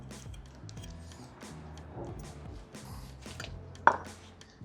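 A knife chops fresh herbs for chimichurri to serve with barbecued steak, striking the board in a quick, steady rhythm of close, crisp taps over a low, constant background hum.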